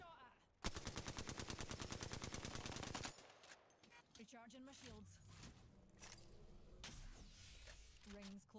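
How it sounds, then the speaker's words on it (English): Rapid, sustained automatic gunfire from the Apex Legends video game, during a Season 20 April Fools event, rattles loudly for a couple of seconds, then gives way to scattered game noises and movement. "Being shot at."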